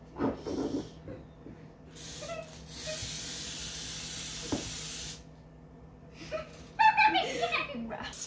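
A can of cooking spray hisses steadily into a cake pan for a funfetti cake, one sustained burst of about three seconds in a home kitchen, with talk and laughter before and after.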